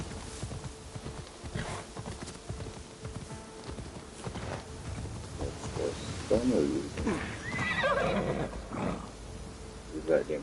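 Horse hooves clip-clop steadily with a whinny, a horse ridden in the Assassin's Creed Shadows video game, under ongoing game sound and a talking voice.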